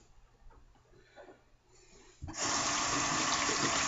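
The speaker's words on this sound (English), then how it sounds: "let me rinse my hands because they're going to be awful slick." A running tap rinses hands slick with Herban Cowboy soap. Faint handling noises come first, then the water bursts on and runs loud and steady to the end.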